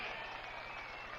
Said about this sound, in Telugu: గట్టిగా చప్పట్లు కొట్టి అభినందించాలి